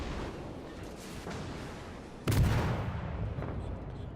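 Hatsuharu destroyer's guns fire in World of Warships, a sudden heavy boom cutting through a rumbling battle background and decaying into a rolling roar, loud and close.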